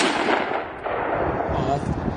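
A single rifle shot rings out loud and close, then trails into a noisy echo with a voice reacting underneath.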